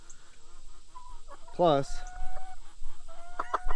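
A rooster handled on a farm lets out a short, loud squawking cluck, close by, with people talking around it.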